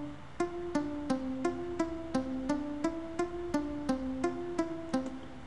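A muted guitar sound from FL Studio's GM instrument set plays a plucked, evenly paced melodic line of short damped notes on its own, with a clear repeating rhythm.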